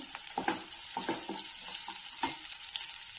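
Onion and green chili pieces hit hot oil with cumin in a pan, giving a steady soft sizzle with a few sharp stirring clicks near the start and middle.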